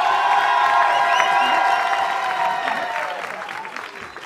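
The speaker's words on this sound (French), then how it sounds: "S'il vous plaît, beaucoup de bruit pour Julie Vernet." Crowd at a CrossFit competition clapping and cheering for an athlete's introduction, a steady wash of applause that gradually fades.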